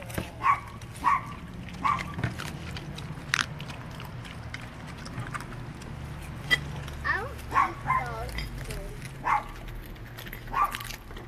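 Dogs tear into and crunch a raw 3.5-pound bird at close range, with repeated wet bites, chewing and crackling and a few sharp yelps or squeaks through the mix.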